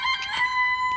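A chicken sound effect with a sustained, tonal crowing cluck fills a one-second burst, loud and close, set against a comedy scene with no talk.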